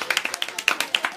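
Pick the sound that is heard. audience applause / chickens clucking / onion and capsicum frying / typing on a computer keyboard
audience applause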